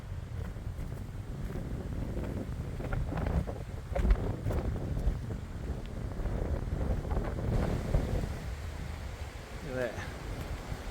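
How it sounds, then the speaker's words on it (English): Wind gusting across an exposed track beside Lake Waikareiti, a loud, continuous rumble buffeting the microphone with rising and falling gusts. "it's quite blowing and it's exposed."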